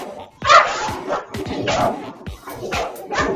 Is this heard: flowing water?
no